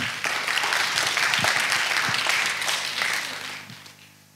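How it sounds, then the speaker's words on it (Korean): An audience at a special criminal profiling lecture in Chuncheon applauds to welcome a professor, a dense, loud burst of clapping that swells, holds, then tapers off over a few seconds. "여러분 표창원 특임 교수님 큰 박수로 맞이해 주시기 바랍니다."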